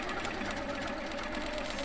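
Long-arm quilting machine stitching quilt binding, a quiet continuous mechanical whir with a faint rapid needle clatter and low hum throughout.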